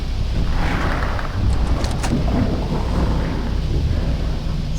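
Low rumbling thunder in the video game Aliens vs. Predator 2, a steady dense roll with wind-like noise that holds loud throughout, no voices over it.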